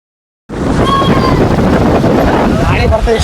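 Strong wind with rain on a hill road at Himavad Gopalaswamy Betta near Gundlupet. It hits suddenly after a brief silence as loud, continuous buffeting, with faint voices in the background.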